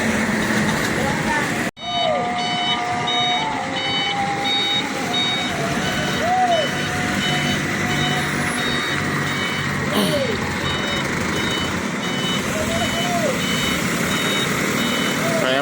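A Rosalia Indah package delivery box truck reverses with steady, repeating electronic backing beeps over a rumbling diesel engine in traffic, loud and close, while people talk nearby.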